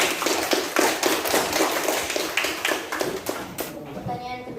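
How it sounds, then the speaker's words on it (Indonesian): A school class clapping after a group presentation, a burst of uneven hand claps with children's voices mixed in, fading toward the end. "Tepuk tangan."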